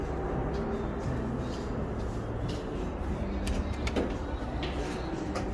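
Front and rear doors of an Otis hydraulic elevator at a Las Vegas hotel tram station slide along in a steady mechanical rumble, with light clicks and a brief knock near the end.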